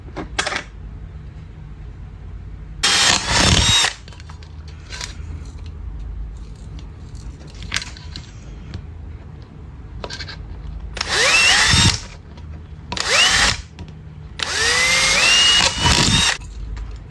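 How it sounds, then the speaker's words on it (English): A power drill bores ventilation holes in a Coke can lantern in several loud, whining bursts of a second or two each, separated by quieter handling gaps. "drill more holes here for ventilation"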